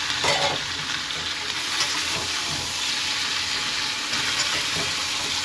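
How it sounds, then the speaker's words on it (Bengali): Vegetables with tomato and green chilies frying in oil in a pan for a Bengali rui fish curry, with steady close sizzling and repeated scraping stirs throughout, no talking. "এবার দু এক মিনিট নাড়াচাড়া করে নিলাম"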